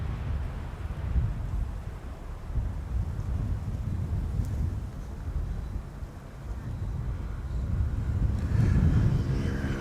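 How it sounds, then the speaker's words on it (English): A Ryanair Boeing 737-800 airliner lands at Schiphol in crosswind, making a steady, broad jet roar mixed with gusty wind noise that swells slightly near the end. "Ryanair arriving from Dublin, flight 3006. 737-800 arriving from Dublin, 1 hour 4 minutes underway."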